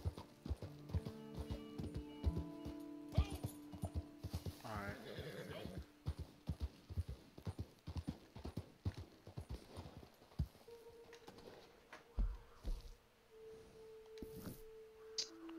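Horse hooves clip-clop in Red Dead Redemption 2, a rapid, rhythmic galloping beat with a whinny partway through, under game music tones and players talking.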